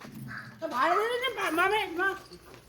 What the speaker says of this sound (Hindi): यहाँ रॉकी भौंक रहा था क्योंकि उसे कर दिया था बंद